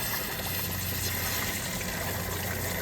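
Old, yellowish, foamy coolant drains from a 2013 Dodge Avenger in a steady, hissing rush of liquid that stays close and even throughout, with no one speaking.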